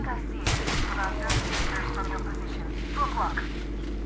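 Gunfire in the video game Metro Last Night comes as short bursts of sharp shots over a low background drone, with a voice talking between the shots.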